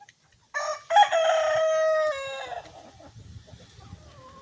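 A rooster crows once in a chicken coop where the hens are eating corn. It is a loud, close, drawn-out cock-a-doodle-doo that fades into soft clucks and faint rustling from the flock, with no talking.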